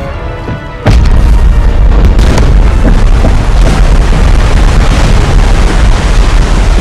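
A warship blows up in a naval battle in the strategy game Total War: Empire, a sudden loud deep boom that gives way to sustained rumbling roar and battle noise for several seconds, with no speech.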